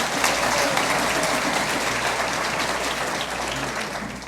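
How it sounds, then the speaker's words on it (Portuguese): An audience at a string orchestra concert applauds warmly with steady, dense clapping that holds at an even level for several seconds, close and full, without any talk. "Eu quero uma salva de palmas calorosa para a Leíse e para o Abinader também."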